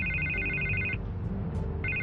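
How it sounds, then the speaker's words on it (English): A telephone rings in the Batman Telltale Series video game, its repeating electronic trill sounding close and steady for about a second, pausing briefly, then starting again over a low game soundtrack. "I can't get the phone to stop ringing."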